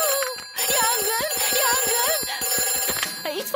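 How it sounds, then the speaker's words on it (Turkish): A cartoon fire station telephone rings with rapid, evenly pulsed bell trills that continue for several seconds, loud and bright, with brief voices over it. "Aa, bir telefon."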